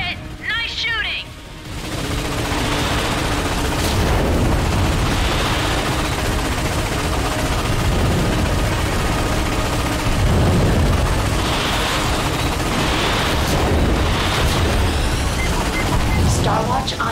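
Gunfire and explosions ring out during the Batalia assault in the PS5 game Ratchet & Clank (2016). After a brief quieter opening, dense rapid shooting and booming blasts run almost without pause, with voices breaking in now and then.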